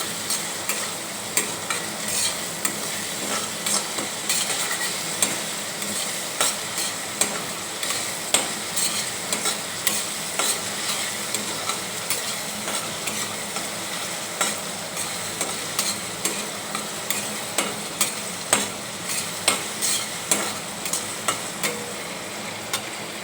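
Ridge gourd with salt and a pinch of turmeric fries in a pan, a steady sizzle punctuated by regular scraping and tapping of a spatula as it is stirred, close and fairly loud with no talking.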